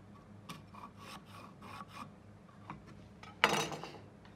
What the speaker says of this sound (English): You can now draw that angle on a piece of timber.